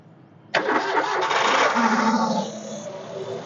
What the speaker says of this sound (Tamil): வண்டியோட லைவாக சவுண்ட் எப்படி இருக்குது அப்படிங்கிற ஸ்டார்ட் பண்ணி காட்டுறேன்